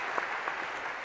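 Applause from a university lecture hall audience, a brief, even wash of many hands clapping at moderate volume with no voices.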